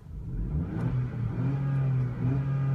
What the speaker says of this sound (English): Somebody wants me to rev. All right, fine, I'll rev it.